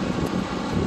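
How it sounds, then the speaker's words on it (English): Steady broadband wind buffeting the microphone, a constant low rumble and rush with no breaks, close and moderately loud. "windy."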